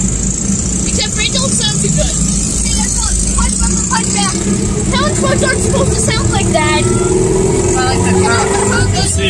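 Loud engine and exhaust rumble from cars cruising past a car show on a busy street, a continuous roar with passing-vehicle swells, as people talk nearby over the traffic noise.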